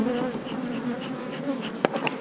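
A dense, close buzzing of many honey bees at a hive, steady and droning, with a brief sharp knock near the end.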